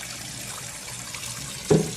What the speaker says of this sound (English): and then you pour that rice water off.